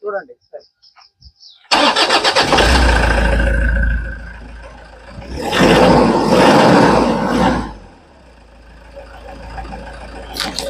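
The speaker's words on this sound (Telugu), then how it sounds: "అసలు ఇంజన్ స్టార్ట్ చేస్తే ఫైరింగ్ వేరే వస్తుంది" A Toyota Innova engine cranks and catches with a loud burst, then runs with a rough, rising and falling roar before settling; a voice speaks briefly just before it starts.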